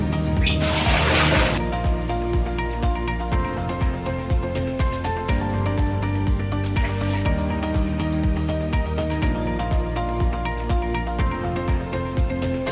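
Water is poured to flush a toilet bowl in a rural sanitation setting: a short gushing splash near the start, then fading under steady background music for the rest.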